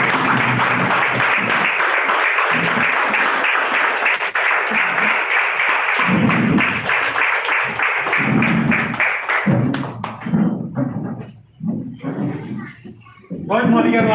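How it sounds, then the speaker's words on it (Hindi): Sustained, dense clapping from a large crowd fills the room for most of the stretch, loud and steady, thinning toward the end as a voice cuts in. "तो दोस्तों आपकी जोरदार तालियों के बीच में मोदी केयर"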